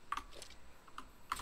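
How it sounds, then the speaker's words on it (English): Computer keyboard keys clicked in quick, uneven bursts during an ARK survival game session, a few sharp close taps spread across a moment with no talking. "I am so clicking all the wrong hotkeys right now."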